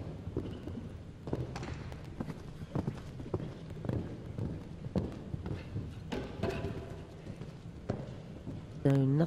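Horse hooves clip-clopping across a show jumping course at an equestrian event in Liverpool, a steady run of thuds and taps heard mid-distance under continuous commentary talk.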